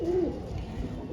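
Pigeons of an old breed kept as high fliers give a single short, soft coo at the start, followed by a low background murmur.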